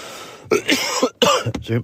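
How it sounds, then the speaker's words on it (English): A close series of dry, raspy coughs and throat-clearing bursts, loud and uneven, with short gaps between them. "Dry cough."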